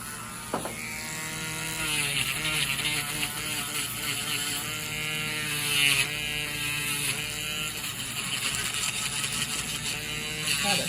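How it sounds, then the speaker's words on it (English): A Dremel rotary tool grinds down a thick fungal toenail, a steady whining buzz with shifting pitch as it presses and lifts, running continuously and fairly loud for about eleven seconds. "Now we'll get the Dremel and then get you cleaned up."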